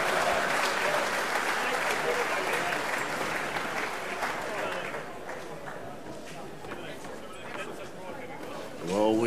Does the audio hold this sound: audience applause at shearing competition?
yes